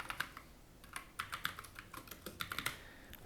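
Code is typed on a computer keyboard in quick bursts of crisp key clicks with brief pauses between, close and fairly quiet, with nobody speaking.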